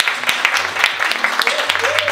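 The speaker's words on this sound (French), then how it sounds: "Je vous demande une fois de plus d'applaudir pour cette dame." Scattered clapping from an audience at a Black History arts festival opening, moderately loud, mixed with a voice talking over it.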